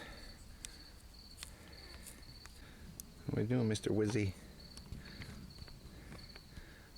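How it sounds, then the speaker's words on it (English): Crickets chirp faintly and steadily in the late-May night air by a fire, a thin high trill, while someone briefly speaks up close. "Crickets. Haven't heard that yet this year."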